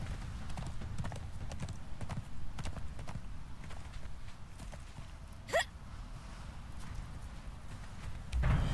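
Steady clip-clop of horse hooves riding in the game Conan Exiles, a continuous rhythmic trot over a dense low rumble, with one brief rising whoosh in the middle.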